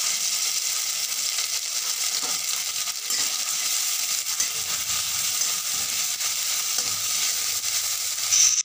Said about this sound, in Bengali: কড়াইতে পরিমাণ মতো সর্ষের তেল দিয়ে গোটা জিরে আর আদা ফোড়ন দেব।